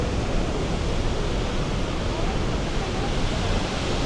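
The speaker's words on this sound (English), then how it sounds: "Hopefully you can hear me over the very loud waterfall." Roaring waterfall on the Mist Trail in Yosemite National Park, a dense, steady wash of water noise that stays very loud and close for the whole stretch.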